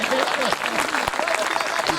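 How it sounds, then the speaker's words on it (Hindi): Audience applause at a Hindi poetry recital in Khariar Road, Odisha: dense, continuous clapping that lasts the whole clip, with a voice speaking over it. "तो जल्दी ताली बजा दो"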